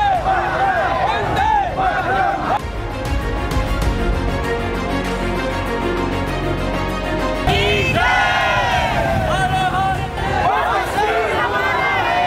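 A crowd of moviegoers gathers at the Rama Palace cinema in Rishikesh, a dense, steady babble of many voices with bursts of shouting and cheering rising over it throughout.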